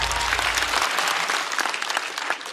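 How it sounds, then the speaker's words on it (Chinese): Studio audience at a stand-up comedy show breaks into sustained applause, a dense wash of clapping that holds steady from start to finish with a low hum fading out early. "再次掌声送给基业。"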